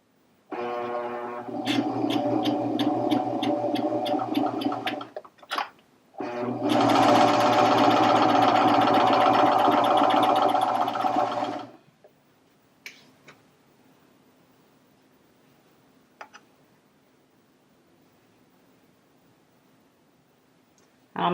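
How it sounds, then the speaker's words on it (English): A Baby Lock Vibrant serger runs a 3-thread overlock seam in two long bursts of fast, loud mechanical buzzing, separated by a short pause, then gives way to quiet clicks and handling noises. "I'm going to stitch a 3-thread overlock"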